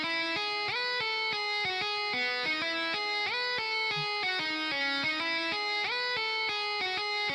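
Bit-crushed electric guitar in an FL Studio metal/symphonic arrangement plays a steady, continuous run of stepping notes with a gritty, harmonically dense tone, fairly quiet and alone for the whole stretch.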